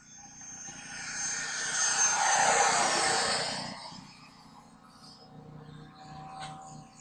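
A propeller airplane flies low down the middle of a runway, its engine swelling from faint to loud as it passes close overhead, then fading away.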